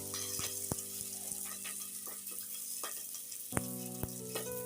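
Rice fries in hot oil and salt in a very hot sufuria, giving a soft, low sizzle over a steady hum, with sharp clicks and knocks of a spoon stirring at intervals, fairly quiet and without speech.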